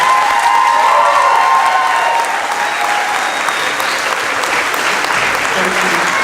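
A graduation audience gives loud, sustained applause for the teachers, a thick continuous roar of many hands with faint cheering mixed in, filling the whole stretch.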